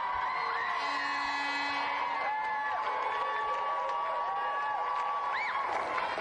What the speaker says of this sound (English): let's have another round of applause for Nino, Martino and Angelo Guardiano